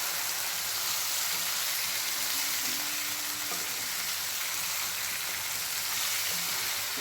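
Chicken liver frying in a masala while being stirred, a steady, fairly quiet, rain-like sizzle that continues evenly throughout with faint scraping underneath.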